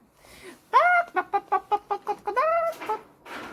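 A person imitates a clucking hen with the voice, a quick run of about ten rhythmic, nasal clucks ending in a drawn-out squawk, close and clear.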